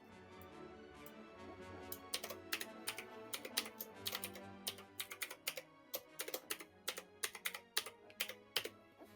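A file name is typed on a computer keyboard, quick bursts of crisp, close key clicks in an uneven rhythm, quiet overall with no talking.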